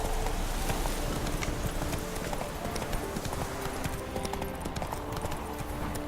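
Rhythmic clip-clop of a horse galloping in The Witcher 3: Wild Hunt, hooves pounding steadily and close over a dense game soundscape of wind and ambience.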